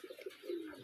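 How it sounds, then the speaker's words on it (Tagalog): A large pet pigeon coos softly nearby in a short, low, rolling call, with a couple of quick throaty pulses easing into a longer drawn-out note. "At ito na yung malaki naming kalapati"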